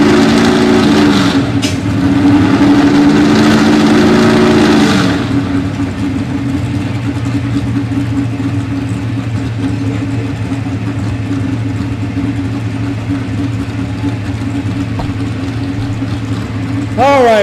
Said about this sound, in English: Seems like he's revving that engine up to move.